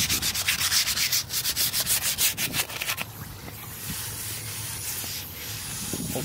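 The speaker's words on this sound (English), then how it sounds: "So we wet sanded it." Rhythmic back-and-forth wet sanding strokes on a Mazda Miata valve cover, steady and close, then a quieter stretch of soft rubbing and hiss.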